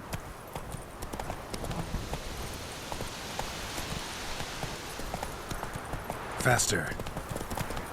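Geralt's horse Roach gallops in The Witcher 3, with rapid, steady hoofbeats drumming under a voice and a louder burst near the end.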